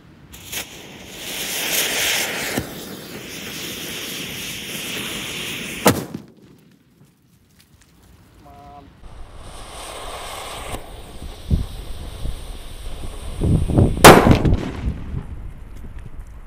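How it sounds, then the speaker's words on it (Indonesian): A taped paper-wrapped firecracker goes off outdoors: hissing and crackling noise gives way to a sharp bang near the middle, then quiet, then a second loud, close burst of crackling blasts near the end. "Dan ini penutupnya mercon buntelan kertas guys, seperti ini."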